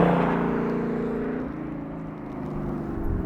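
Formula 4 race car on a track's front straight, its engine holding a steady, loud, droning whine with layered harmonic tones that shift pitch slightly midway, close and continuous throughout.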